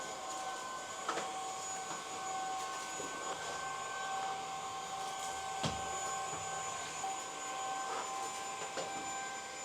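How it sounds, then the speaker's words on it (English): A vacuum cleaner running while an apartment is cleaned, a steady whining motor drone with a few faint knocks and bumps as it moves, heard alone without talk. "I'm gonna hit it with the vacuum and call it a day."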